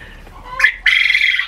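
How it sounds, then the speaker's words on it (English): Quail and chickens calling together, with a short squawk followed by a sustained, loud, shrill call that carries on for most of the moment, close by and without talk. "So the quail and the chickens decided to make a whole bunch of noise when I started talking."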